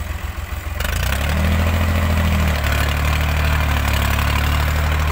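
A tractor engine idles close by, a steady low rumble with a constant throb that starts abruptly after a moment of quieter noise and then holds loud and even.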